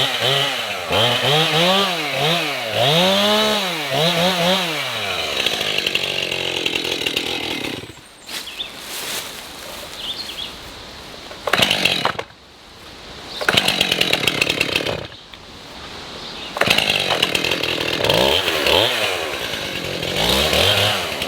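A new chainsaw cutting up downed trees, its engine revving up and down in rising and falling whines, then dropping to a rough idle between bursts of cutting.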